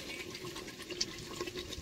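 Water is poured into mutton curry cooking in a pot over a wood-fired stove, a soft continuous sizzle and splash that stays fairly faint and steady throughout.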